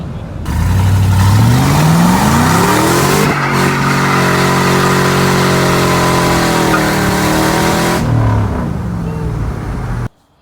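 A 5.3 V8 in a Yukon with new intake gaskets and a stock cam revs hard, loud and close: a rising roar that holds a high steady pitch for several seconds, then drops before cutting off abruptly.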